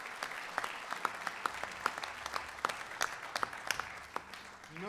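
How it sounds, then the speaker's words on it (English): Sparse applause from a smaller crowd at an outdoor music festival, with individual claps standing out in an irregular rhythm, fairly faint and distant, tapering off toward the end. "Let's give a big round of applause for all the volunteers and the"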